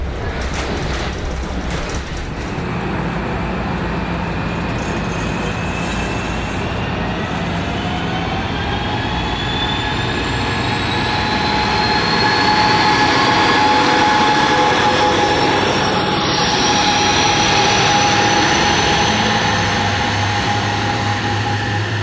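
A VIA Rail passenger train rumbles past nearby at Dorval, Quebec, loud and continuous, with a rising metallic whine and steady rolling noise building toward the end.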